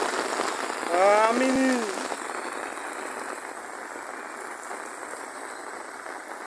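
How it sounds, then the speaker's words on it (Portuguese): Heavy rain pours steadily and densely, a continuous hiss that fills the whole stretch, with a short voice exclaiming near the start. "chuva tá engrossando"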